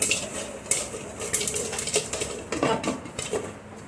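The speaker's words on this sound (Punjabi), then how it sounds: "ਮੈਂ ਟੱਕਣ ਦੇ ਕੇ ਇਸ ਤਰ੍ਹਾਂ ਹਲਾਵਾਂਗੀ" A lidded pot of masala popcorn kernels is shaken on the stove, giving loud rattling and metallic clattering in uneven bursts that fade toward the end.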